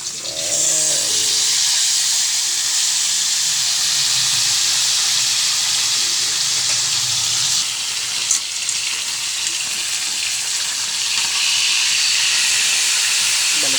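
Tilapia frying in hot oil, a loud continuous sizzling hiss that holds steady throughout with faint clinks underneath.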